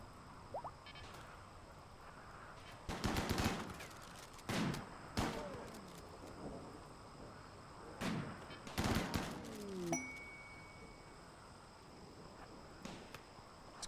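Turret and mortar gunfire in RimWorld, sharp clustered bursts of shots in several volleys with gaps between, fairly faint overall with a quieter background.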